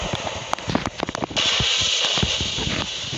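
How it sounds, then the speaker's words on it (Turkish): Bombs going off in the battle royale mode of the video game Kuboom, a burst of sharp cracking blasts in quick succession followed by a sustained hissing roar. "Bomba fırlattım ölmemiş"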